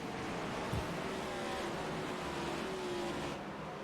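Mustang race cars in an ARCS A2 Cup Series sim-racing event accelerate together at a restart, a steady close engine roar with a rising whine and a brief thump early on.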